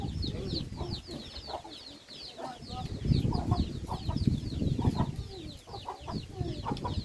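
Chickens cluck and chirp outdoors in a rural yard, with repeated short calls scattered over a busy low rumble of ambient noise and faint background voices.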